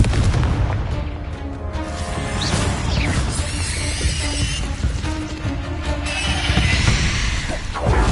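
A Confringo blasting spell explodes in a Harry Potter video game near a cave, a loud, dense burst of booming blasts and crashing debris that rumbles on steadily for several seconds.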